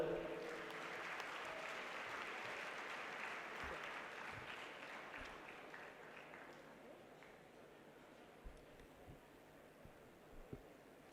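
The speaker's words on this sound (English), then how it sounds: "A huge round of applause for Sri Anmol Agarwal sir." Audience applause, a dense steady clapping from a crowd that gradually thins out and fades toward the end.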